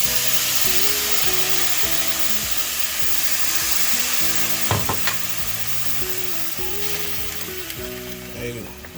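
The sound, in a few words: deglazing pan of onions and garlic with Jim Beam bourbon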